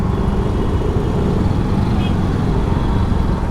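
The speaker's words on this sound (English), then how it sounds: "The Pune traffic." City traffic in Pune heard from a rider on a Yamaha Aerox scooter: a continuous loud rumble of engines and road noise from surrounding cars, trucks and buses, with no clear talk.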